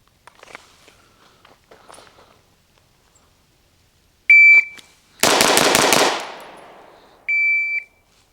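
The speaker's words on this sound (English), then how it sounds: "We got the shot timer here from the holster. 6 shots." A shot timer beep followed by rapid pistol fire in a bill drill with a Bul Armory EDC Pro, drawn from the holster at about five yards: one sharp beep, a dense burst of loud close shots, then a final timer beep.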